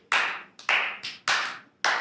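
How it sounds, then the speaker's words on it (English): Several sharp hand claps close by, about four or five in an uneven rhythm, each a crisp snap that fades quickly, alone without talk. "every time I land in the airport, people clap"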